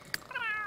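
In The Sims 3, a game cat lets out a single short meow right after a brief click, clear and close with no talking.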